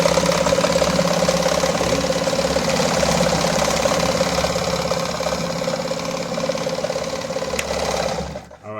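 A Toyota Zigline sewing machine running steadily as it sews a straight stitch, a loud continuous mechanical whir and rapid needle chatter that stops abruptly near the end.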